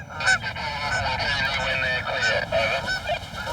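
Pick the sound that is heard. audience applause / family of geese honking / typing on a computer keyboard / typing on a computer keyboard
family of geese honking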